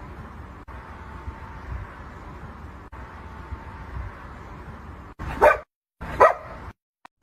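Inside a car, a dog gives two loud, sharp barks close by near the end, after several seconds of a quiet steady hum from the cabin.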